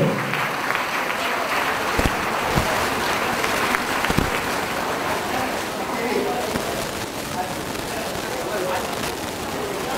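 An audience at a 2013 test-series prize distribution in Ranchi applauds steadily for about ten seconds in a dense, continuous wash of clapping, with voices talking over it.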